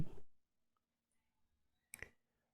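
A computer mouse clicks twice, about two seconds apart, while operating the Windows 11 taskbar; the clicks are short, close and quiet, with near silence between them.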